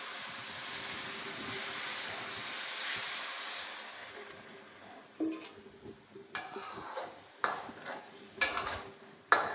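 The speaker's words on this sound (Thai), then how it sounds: "เราเติมน้ำลงไปเลยค่ะ" Water splashes into a hot pan of stir-fried minced pork being cooked for Thai larb, a steady sizzling hiss that breaks into sharper bursts and crackles as the liquid hits the pan.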